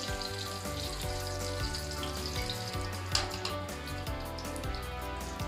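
Cumin seeds sizzling in hot oil, a first tempering step for spicy black chickpeas, give a steady close crackle and hiss that holds throughout with one brief sharper pop, over a faint low tonal hum.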